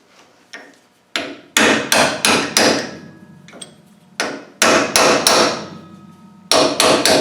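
A hammer strikes a chisel to work a snapped bolt loose, landing sharp metallic blows in quick clusters of three or four with short gaps between them, close and loud with no talking.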